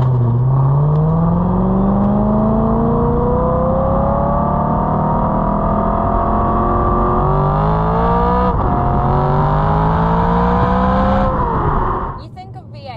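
BMW E92 M3 V8 engine climbs steadily through the revs in a loud, smooth rising wail, easing briefly and pulling up again before dropping off near the end.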